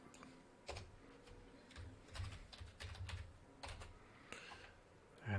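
Bursts of quick key taps on a computer keyboard as a username is typed, close and soft, in short irregular clusters separated by brief pauses, with no talk.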